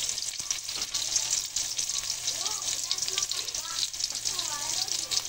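Garlic and onion sautéing in a pan for chicken afritada, a continuous bright sizzle with some clatter while a person talks at intervals.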